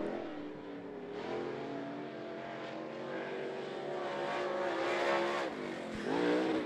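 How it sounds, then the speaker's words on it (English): Steelhead late model race cars circle I-75 Raceway with a continuous loud engine roar that rises and falls as the pack passes, revving harder near the end, no talk over it. "but Brad Coffey, two laps on the clock for the Steelhead Late Models"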